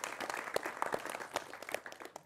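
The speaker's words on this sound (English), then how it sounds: "And so I think that deserves a round of applause." Audience applause at an evening speaker event, scattered distinct claps that are fairly faint and uneven, with individual hand strikes standing out rather than a dense roar.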